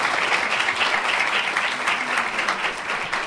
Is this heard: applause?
yes